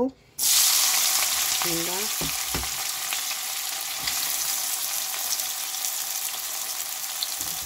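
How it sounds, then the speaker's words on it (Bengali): Chopped onion hits hot oil, already used for frying chicken, with a loud, steady sizzle that stays dense and even throughout, broken by a few brief clinks and stirring scrapes early on. "এরপরে ওই একই তেলে আমি পেঁয়াজ কুচি দিয়ে দিব"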